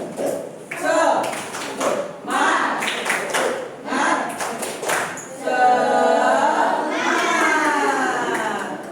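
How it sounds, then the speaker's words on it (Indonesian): A classroom group does a rhythmic spirit clap, brisk claps in quick bursts mixed with the children's chanting voices, then the voices carry on in a sustained chant after the clapping thins out. "Yuk, tepuk semangat, tepuk semangat."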